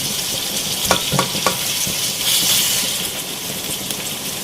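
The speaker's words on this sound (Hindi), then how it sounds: "इसको यहाँ पे आपको ज़्यादा नहीं भूनना, बस 2 से 3 मिनट तक भूनना है" Tomatoes and onions fry in a pan with a steady sizzle and broad hiss, a few sharp crackles and stirring clicks early on, no voices.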